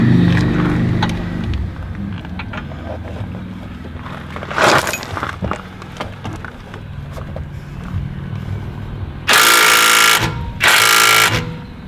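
Ingersoll Rand impact wrench working to loosen a bolt on a Mitsubishi ASX during brake work, with a short early burst and then two loud, sustained hammering bursts near the end over garage background noise.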